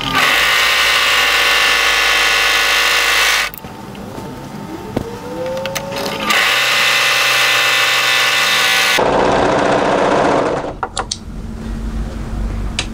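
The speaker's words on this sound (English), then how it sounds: "go to your overlocker and tidy those seams up" An overlocker sewing machine tidying the seams of a cropped tailored knit jacket, running in loud high-pitched whirring bursts, stopping briefly between runs with clicks and softer mechanical sounds in the pauses.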